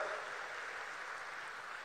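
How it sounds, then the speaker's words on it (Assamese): Crowd at a public gathering in an Assam tea garden community event applauds in a steady, diffuse wash of clapping that neither swells nor fades, with no distinct voices. "সকলোকে এটা মই ডাঙৰ হাত চাপৰি মাৰিবলৈ অনুৰোধ জনাম"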